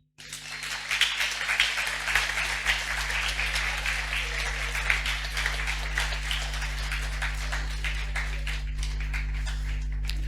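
A comedy club gala crowd applauding in tribute during an opening speech, steady dense clapping that holds for about ten seconds over a constant low hum from the room's sound system.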